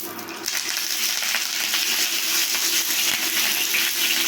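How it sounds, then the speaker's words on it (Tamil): Curry leaves dropped into hot coconut oil with popping mustard seeds, giving a dense, steady crackling sizzle with bright spitting pops that swells slightly once the leaves go in, close and without talk. "இப்போ கருவேப்பிலையை போட்டுக்கலாம்"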